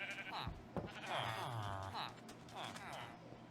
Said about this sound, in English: My sheep farm over in here.